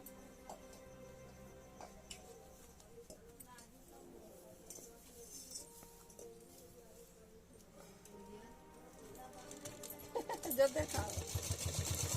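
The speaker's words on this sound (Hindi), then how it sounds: "आपको ऐसे ही करके पूरी कमर पट्टी में सिलाई करना है।" A sewing machine stitches a skirt waistband with quiet, rapid ticking that builds into a louder, denser whir near the end, while a person talks over it.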